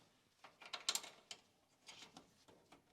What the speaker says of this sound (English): let's see if I can get my column bolts in